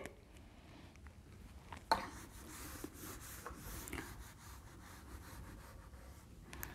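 A duster rubs writing off a classroom board with soft, continuous scraping strokes, fairly quiet, with a sharper knock near the start and no talking over it.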